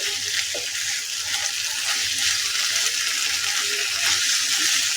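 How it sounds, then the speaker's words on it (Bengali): Masala sautés in oil until the oil separates, a dense, continuous sizzle heard close up with soft stirring, with no talking. "ভালোভাবে কষিয়ে নেব, তেল ওঠা পর্যন্ত আমি কষাবো ভালোভাবে।"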